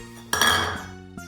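Chilies and garlic drop into a metal mixer jar with a sharp clanking clatter that rings briefly, followed by a smaller clink near the end.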